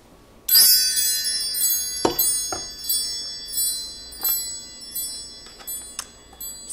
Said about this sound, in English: Let's call in spirit with some wind chime time.